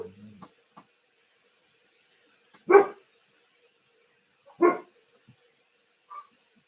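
Puppies let out two loud, short barks a couple of seconds apart, with faint yips and small sounds in between, in an otherwise quiet room.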